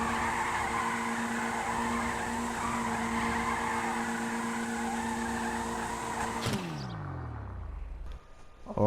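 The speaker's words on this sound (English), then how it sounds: "you could probably do donuts for like hours straight" A car spins donuts in GTA Online, a steady loud engine drone and continuous tire skid that holds for several seconds, then drops in pitch and fades into near silence.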